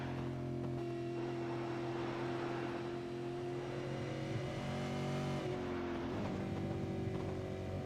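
Steady, loud drone of a V8 Supercars race car engine at Bathurst, heard on board, holding a sustained high-revving tone before a brief easing of the revs partway through and then picking back up.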